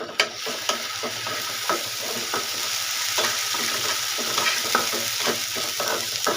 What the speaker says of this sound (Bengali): দেখেন পেঁয়াজ ভাজা হয়ে গেছে